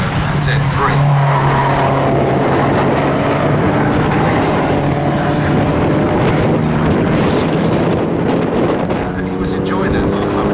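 A 2.2-litre BMW Z3 race car laps Snetterton circuit in a Z Cars race, its engine a loud, sustained roar with shifting tonal whine over heavy rushing and wind noise.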